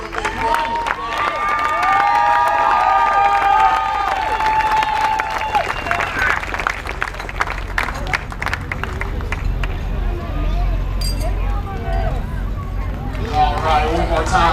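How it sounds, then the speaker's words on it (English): Crowd at a Marine Corps Half Marathon award ceremony claps and cheers for a second-place finisher coming forward, a steady, loud burst of applause and hubbub with voices mixed in throughout. "Give him a big round of applause."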